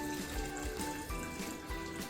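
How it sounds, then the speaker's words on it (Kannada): Water is poured into a mix of grapes and sugar for homemade red wine, making a soft, continuous close-up trickle at low volume. "ಇವಾಗ ಸಕ್ಕರೆ ಹಾಕಿದ ನಂತರ ನೀರು ಹಾಕೋಬೇಕು."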